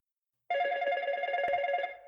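A toy phone gives a cruel little trill in a sci-fi horror audio drama, one steady electronic ringing tone sounding alone and close for about a second and a half before fading.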